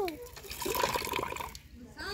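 A young girl washes a dish or glass under running water, a splashing, trickling wash sound over the middle of the clip, with a voice and adult talk around it.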